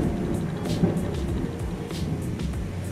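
Thunder rolls through a storm heard from inside a home, a dense low rumble with rain-like patter on top, continuous and moderately loud without any talk.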